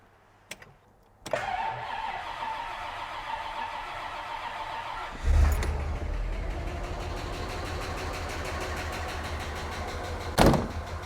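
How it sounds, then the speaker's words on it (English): A Bentley T engine cranks over on its starter for several seconds, a steady mechanical churn that swells louder partway through, with a sharp knock near the end and no talking. "I'd sooner turn it over for a few seconds, you know, maybe 10 seconds, get the oil around the engine."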